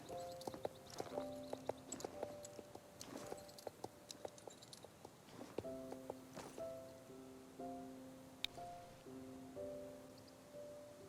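Horse hooves clip-clop in Star Stable during a schooling ride, with steady rhythmic footfalls moving through the gaits against soft ambient game music, no talking.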